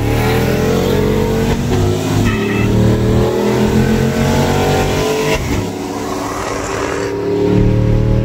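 A Pontiac G8 fitted with an OBX exhaust revs hard while its wheels spin, a loud, sustained engine roar that rises and holds, dipping briefly before climbing again.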